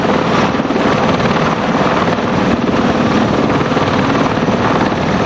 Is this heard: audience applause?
no